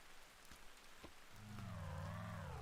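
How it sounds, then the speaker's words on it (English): Soft, steady rain falls in a video game, a faint hiss with a few scattered drops, before a low warbling tone swells in and continues over the rain. "The rain sounds are beautiful."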